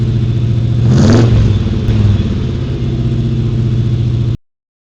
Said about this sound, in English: let's rev it up for those hot rods